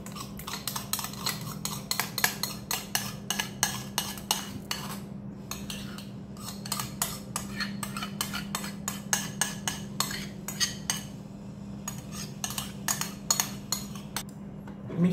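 A spoon stirs cream in a metal cooking pot while shir berenj, an Iranian creamy rice sweet, is made; close metallic scrapes and clinks repeat in a steady rhythm over a low background hum, with no voices.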